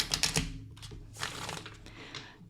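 A deck of tarot cards being shuffled by hand in a quiet room, with a quick burst of riffling clicks followed by softer, looser crinkling and sliding card noise.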